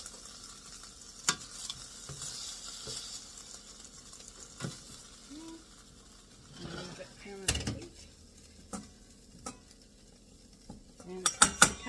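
Cooked beef fajita strips dropped and tossed into a bowl with cooked vegetables, giving scattered clinks of utensil on bowl, soft shuffling and a faint sizzle, with intermittent clatter toward the end.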